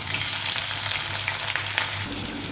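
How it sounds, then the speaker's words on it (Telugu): Onions, cumin and mustard seeds frying in hot oil: a dense, close crackling sizzle that drops slightly near the end, with faint stirring and no speech. "ఉల్లిపాయ ముక్కలన్నీ వేగిపోవాలి కొద్దిగా"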